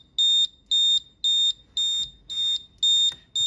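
Zone 1 alarm on a CMR Electrical one- or two-zone water leak detection system, sounding seven loud, evenly spaced electronic beeps of about a third of a second each, alone in a quiet room.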